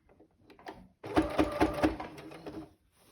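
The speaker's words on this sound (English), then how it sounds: "I'm gonna sew another little slot here." Sewing machine stitching a small slot along the edge of a fabric face mask, a burst of rapid mechanical needle strokes running for about a second and a half after quiet handling noises, close and fairly loud.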